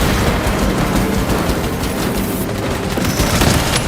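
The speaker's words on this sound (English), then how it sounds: "Deploying frag grenade!" A frag grenade explosion in the video game Warhammer 40,000: Space Marine II, heard as a loud, dense roar of blasts and rapid gunfire that stays intense for several seconds, with no voices.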